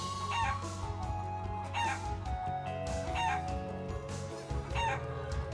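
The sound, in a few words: chicken clucking in video game Trails of Cold Steel 2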